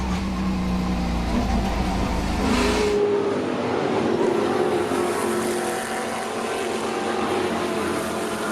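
Onboard a Ford Mustang TA2 race car at Road America: a loud, continuous engine roar that holds high revs, drops sharply around a shift or braking point, then carries on steadily.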